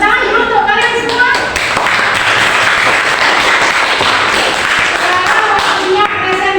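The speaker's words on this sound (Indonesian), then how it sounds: "tepuk tangan dulu untuk kalian semua" Classroom applause from students before group presentations, loud and dense throughout with voices mixed in over the clapping.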